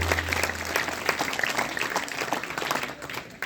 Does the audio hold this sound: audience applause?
yes